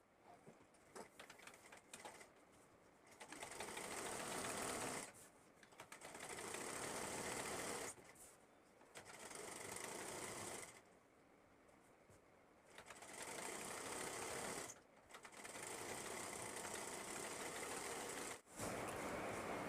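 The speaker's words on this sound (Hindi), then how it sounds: "यहाँ से हमने एक पैर की सिलाई शुरू करनी है" An electric sewing machine stitching the leg seam of an umbrella palazzo, running in several steady bursts of a few seconds each, separated by short pauses, close and fairly quiet.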